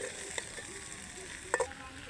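Maggi masala is stirred in a sizzling pan while making pasta, with a steady low sizzle and a couple of brief utensil clinks.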